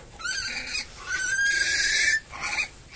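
Pigs on a farm kept for breeding and sale grunt and squeal close by in a series of harsh, wheezy calls, loud and continuous with short breaks, no talk over them.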